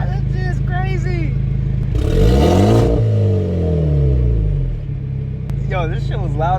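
A turbocharged Genesis Coupe sits at a close, lumpy idle before one sharp, roaring rev climbs and drops away, then settles back into the burbling exhaust rumble, with a short voice near the end.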